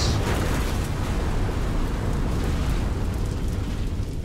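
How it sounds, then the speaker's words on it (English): A big rumbling explosion sound effect from a tech news show intro, a dense continuous roar that stays loud and fills the whole stretch without letting up. "Wait for all that explosion to go out."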